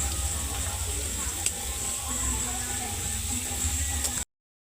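Paneer cubes and raisins fry in hot oil for a paneer pulao, giving a steady, close sizzle with a few louder crackles before it cuts off abruptly.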